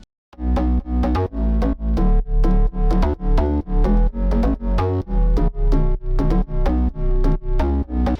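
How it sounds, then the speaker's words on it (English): Thick layered synth bass pumps in a steady rhythmic pattern, loud and close, each note ducking and swelling regularly with no voices. "Altogether, the bass sounds like this."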